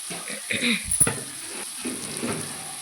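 Turmeric stirred into hot oil in a frying pan, a soft sizzle with a few scraping stir strokes and a sharp clink of the spoon near the middle, fairly quiet and close.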